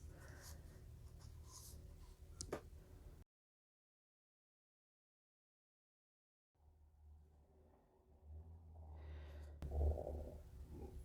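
Graphite of a Musgrave Test Scoring 100 pencil scratching across paper, a soft close rasp in two stretches separated by a few seconds of silence, with the second stretch growing louder.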